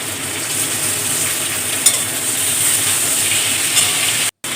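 Flat beans and eggplant fry in a pan with salt and turmeric, giving a steady, loud sizzle and hiss throughout with a brief dropout near the end.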